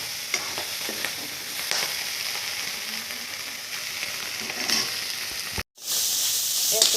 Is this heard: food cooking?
yes